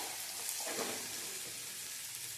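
Fish coated in turmeric and salt fries in a pan, producing a steady, even sizzling hiss at low volume with no talking.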